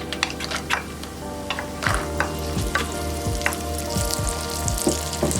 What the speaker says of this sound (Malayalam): നമുക്കിനി അണ്ടിപ്പരിപ്പും മുന്തിരിയും ഒന്ന് പൊരിച്ചെടുക്കാം